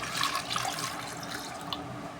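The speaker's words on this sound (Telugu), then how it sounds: "ఇప్పుడు ఒక కప్పు వాటర్ వేసుకుందాము" A cup of water is poured into a pot of spiced mutton with turmeric, chilli and salt, giving a brief close splashing pour with a few small drips.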